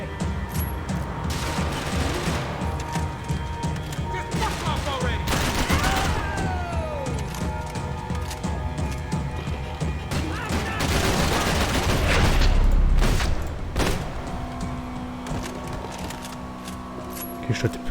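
A gunfight at the docks in Max Payne 3 brings bursts of rapid gunfire, single heavy shots and booms in close succession, with mechanical clicks and some game voices mixed into the loud, dense battle.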